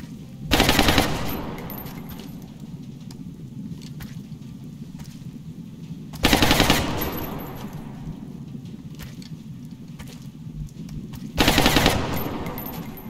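Three bursts of automatic gunfire from the XCOM Long War video game, spaced several seconds apart over a low background hum, each a rapid rattling volley that fades quickly.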